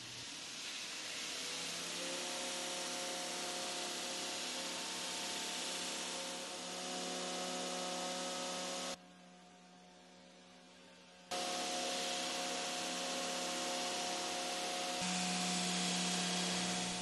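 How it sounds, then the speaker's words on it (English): A grinder roughs in hatchet bevels freehand, making a steady, loud hiss with a sustained whine. It stops briefly midway, then resumes at the same level, with no voices. "I'll grind the bevels in freehand"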